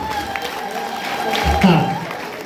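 An audience applauds at a church graduation ceremony, with a short burst of clapping and crowd noise partly under a voice speaking.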